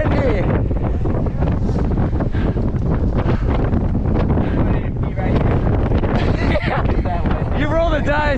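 Steady wind buffeting the microphone on a San Francisco mountain biking trail, a constant loud rumble throughout, with faint voices mixed in underneath.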